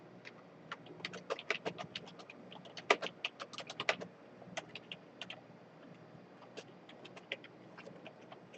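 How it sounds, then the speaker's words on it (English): Quick bursts of typing on a computer keyboard, rapid clustered keystrokes followed by sparser taps, close and fairly quiet over a faint background hiss. "I'm typing in"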